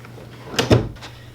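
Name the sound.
dresser drawer being opened and closed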